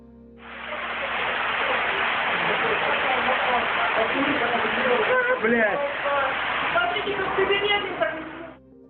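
Sewer overflow after heavy rain gushing water into a home, a loud, continuous roaring rush like a waterfall with splashing that swells in and holds steady, with people's voices faintly over it near the end.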